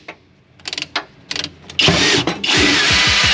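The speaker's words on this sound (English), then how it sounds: "I can drill another hole." A power drill bores a hole into a car, starting with a few short mechanical clicks and whirs before breaking into longer, louder bursts of close-up drilling.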